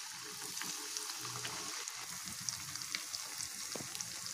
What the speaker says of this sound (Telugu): ఇవి ఒక్కొక్కటిగా ఆయిల్లో వేసుకుందాం. మీడియం ఫ్లేమ్ పెట్టుకుని అన్నీ డీప్ ఫ్రై చేసుకోవాలి.